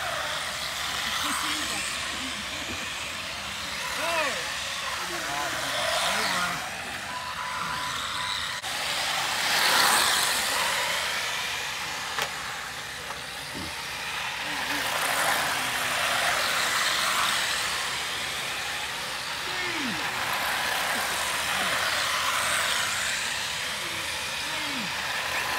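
Cars racing over five laps in a video game, engines droning and swelling in a mid-level rumble with occasional knocks and revs, under frequent excited talk.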